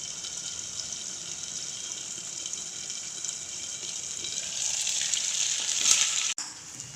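Squid pieces frying in hot oil give a steady, close sizzling hiss that swells a little louder toward the end, with no talking.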